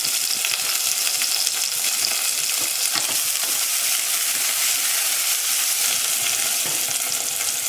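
Vegetables, curry leaves and pepper frying in hot oil for a Chettinad vegetable kurma, a steady loud sizzle with stirring scrapes throughout, no voices.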